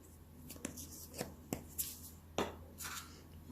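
Dry cookie-dough ingredients with a pinch of cinnamon mixed in a bowl for a chocolate chip cookie pizza, heard as a handful of soft, quiet scraping strokes at an uneven pace.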